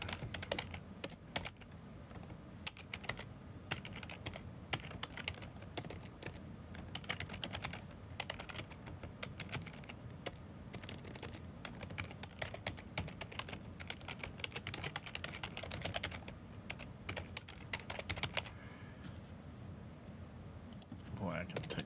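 Steady, fast typing on a computer keyboard, with dense clicking keystrokes running throughout at close range and a voice talking briefly over the top.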